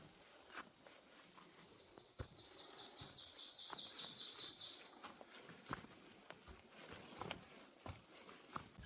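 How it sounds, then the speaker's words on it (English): Many birds chirp and sing in a Smoky Mountains forest with mountain laurel and rhododendron, high repeated calls in bursts over a steady insect-filled background, moderately distant with no talking. "Tons of birds."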